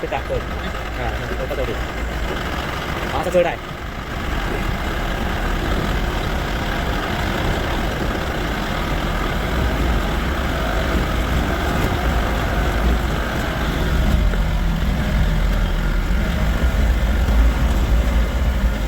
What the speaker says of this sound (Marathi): आरामात चढली नाही गाडी